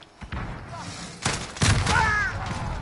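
In-game explosion and gunfire in Call of Duty Modern Warfare on PS4: a sharp loud blast near the middle and another burst just after, with rumbling battle noise between and no talk.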